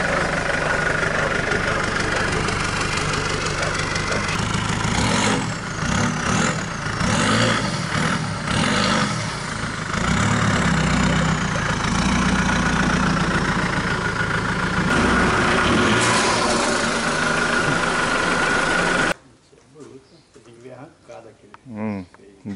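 A lowered Ford Fiesta idles and then pulls away at a car club meet, its engine rumbling loud and close with a rough, knocking edge, while people talk over it before the sound cuts off sharply near the end.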